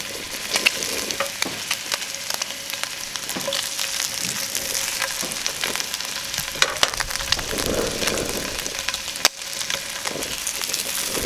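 Tuna belly bacon sizzling and crackling steadily in a carbon steel pan, a constant close frying hiss with occasional sharp pops and spatters.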